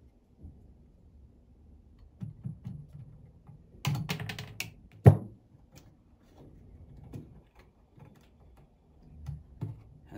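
Electrical wire is cut to length with a sharp snip while being fitted into a junction box, preceded by a few light handling clicks and soft rustles. Everything is faint and close, with no talking.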